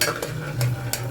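Chopped onion frying with ginger garlic paste in a pan, a low steady sizzle broken by three sharp spoon scrapes.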